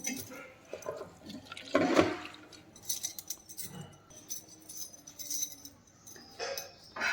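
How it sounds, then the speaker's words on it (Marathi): Water splashes and gurgles into washed dal in a pot, uneven pours with clinks of a vessel, close and moderately loud with no talk. "तर याच्यामध्ये आपण पाणी टाकून घेणार आहे"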